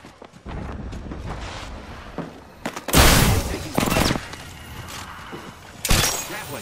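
Gunfire in the battle royale shooter Apex Legends: scattered shots with several loud bursts, the strongest near the three- and six-second marks, over a busy game backdrop.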